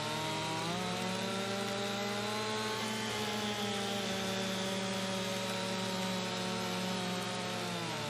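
A chainsaw cuts through wood in the farming game Farming Simulator 25, its engine droning steadily at high revs throughout with a buzzing, slightly wavering pitch, loud and continuous with no speech.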